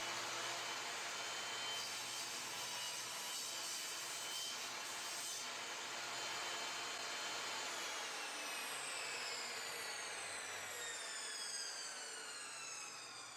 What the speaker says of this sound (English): Cut it to length using a crosscut sled or a miter saw